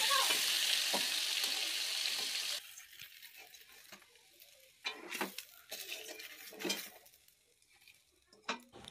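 Koi fish frying in hot oil, turned side to side until reddish: a loud, steady sizzle fills the first couple of seconds, then settles into a quieter crackle broken by clattering turns and scrapes in the pan.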